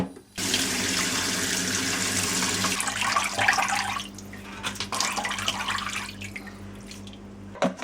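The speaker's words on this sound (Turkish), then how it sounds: "Şimdi bir daha yıkayacağım." Anchovies washed under a running tap, a loud steady gush of water with splashing and dripping that eases off partway, then resumes more unevenly, no speech.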